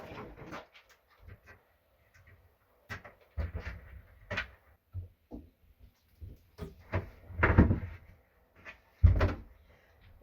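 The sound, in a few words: removing a cabinet door for contact paper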